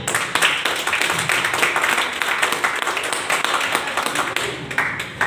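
Loud, dense applause fills a plan meeting hall, many people clapping together in a continuous ragged patter for several seconds.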